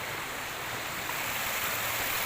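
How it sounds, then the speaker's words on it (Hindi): Fast water rushes beneath a wooden bridge in a steady, loud broadband roar that fills the whole stretch with no break and no voices. "ये देखो तेज पानी आ रहा है"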